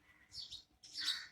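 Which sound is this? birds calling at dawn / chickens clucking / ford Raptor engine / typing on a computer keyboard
birds calling at dawn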